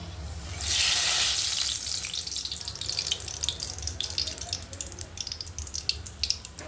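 Palm fruit fritters (taler bora) frying in hot oil: a loud burst of sizzling as batter hits the oil, settling into a steady crackling fry with sharp pops, no talking.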